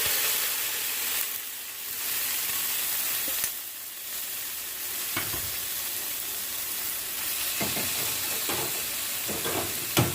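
Shrimp seasoned with salt and spicy Korean red pepper powder sizzles steadily in a hot pan over high heat, with occasional stirring scrapes and no talking.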